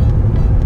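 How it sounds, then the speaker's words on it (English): An Audi S1 Sportback on a twisty road gives a brief, loud, low exhaust rumble up close, a dense steady drone with no voices. "kind of rorty exhaust down low"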